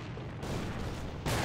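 Gunfire from a Counter-Strike match, loud broadband blasts filling the whole clip with a sharp fresh burst near the end, no voices over it.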